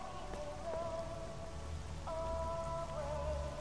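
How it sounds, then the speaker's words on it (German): Rain falling in S.T.A.L.K.E.R.: Shadow of Chernobyl, a steady moderate patter with thin tonal whines drifting over it, continuous and without voices. "Oh, jetzt regnet's wieder."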